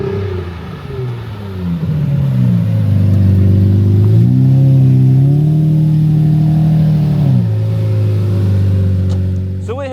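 A 2009 Lamborghini Murcielago LP640 Roadster idles loudly nearby and is revved several times, its pitch climbing and falling in smooth harmonic swells before settling back to a steady idle near the end.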